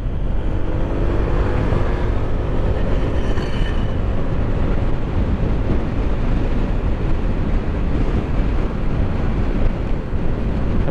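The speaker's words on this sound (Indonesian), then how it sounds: "angin begitu kencang gitu" Strong gusting wind buffets the microphone of a Honda PCX motorcycle while riding, a steady loud broadband roar that runs unbroken throughout, with no voices.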